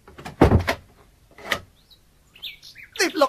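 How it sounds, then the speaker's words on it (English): A door thuds shut and its bolt clatters in a couple of sharp, close knocks, followed by faint bird chirps and a brief rustle, in an old radio drama of a country house. "she shut and bolted the door."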